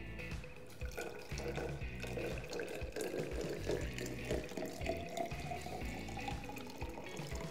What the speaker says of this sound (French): je complète avec de l'eau déminéralisée